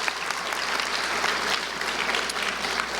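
An audience at the Let's Move rally in Jackson, Mississippi applauds, a dense, even burst of clapping from a crowd that holds steady throughout.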